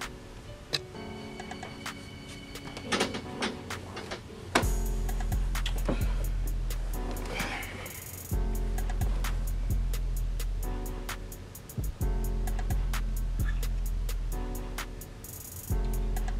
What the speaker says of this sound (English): go back over to the sewing machine, piece them together.